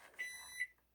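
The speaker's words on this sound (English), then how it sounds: "That's the timer." A kitchen timer sounds off in two quick, faint electronic beeps, close by with no talking.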